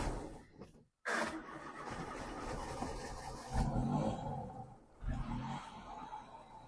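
A Daihatsu Ceria car engine starts up close by: a rough cranking burst, a brief silent gap, then the small engine catches and runs with an uneven, throbbing idle that surges a couple of times.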